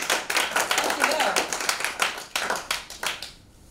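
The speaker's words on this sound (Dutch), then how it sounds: "Wacht alsjeblieft een heel hard applaus voor Casper Schipper." Audience applause at a Dutch presentation event, a steady burst of many hands clapping close by for about three seconds before fading to quiet, with faint voices mixed in.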